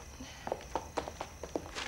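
Footsteps walk away across a hard floor, about six evenly paced steps, fairly close and moderately loud, with no talk over them.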